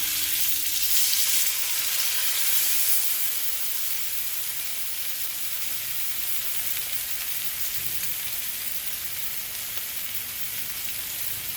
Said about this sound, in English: Just as it starts to smoke a little bit, that's when you want to drop your steak in.